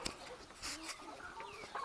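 Large chickens at a farm cluck close by, several soft overlapping clucks and murmurs in quick succession against a quiet background.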